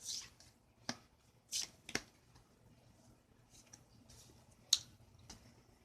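A deck of oracle cards is shuffled quietly by hand nearby, giving soft scattered riffles and sharp flicks at irregular intervals against a faint background.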